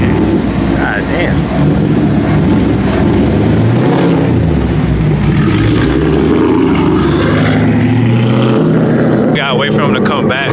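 A manual Chevrolet Camaro at a Houston car meet revs hard and pulls away, its engine roaring loudly with rising and falling pitch as it shifts, while onlookers talk nearby.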